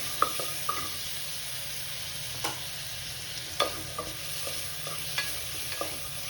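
Ginger garlic paste fries in hot oil for tomato rice, giving a steady soft sizzle broken by occasional sharp clicks and scrapes of a spoon stirring the pan. Nobody speaks.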